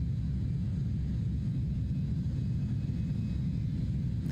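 Exterior engine noise of an airplane in Microsoft Flight Simulator 2024, heard from outside the aircraft as a steady, dense low rumble and drone that holds constant throughout with no talking.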